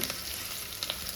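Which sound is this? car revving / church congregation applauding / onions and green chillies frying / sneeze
onions and green chillies frying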